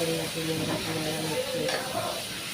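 Sarakandha nethalla curry being stirred and mixed in a pan, a soft steady sizzle with faint scraping of the spoon, quiet and continuous, with someone speaking over it.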